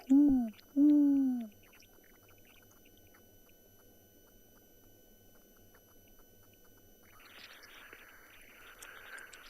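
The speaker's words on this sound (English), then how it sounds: "I'm almost certain it is the spotted eagle owl, not the giant." Two deep, low spotted eagle owl hoots in quick succession at sunset on safari, then quiet ambience with faint rustling and distant noise later on.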